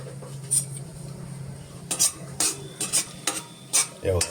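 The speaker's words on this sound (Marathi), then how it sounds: "या तुपामध्ये मी हे शेंगदाणे टाकतोय आणि हे जरासे भाजून घेतोय" Peanuts roast in about a tablespoon of ghee in a pan for tomato upma, with a soft sizzle and scattered sharp clinks of a spoon against the metal pan, several of them spaced through the stretch.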